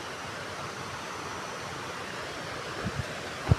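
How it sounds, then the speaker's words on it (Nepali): A small stream, the Pahiro Khola, flows with a soft, steady rush of water, faint and continuous, with a couple of brief thumps near the end. "यो चाहिँ हाम्रो सानो खोला, यसको नाम चाहिँ पहिरो खोला हो गाइज"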